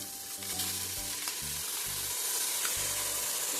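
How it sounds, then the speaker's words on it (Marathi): Soaked rice stirred into hot ghee with whole spices such as green cardamom and black pepper, for coconut rice: a continuous, close sizzle with occasional stirring scrapes. "तुपामध्ये हा तांदूळ छान परतून घेऊ."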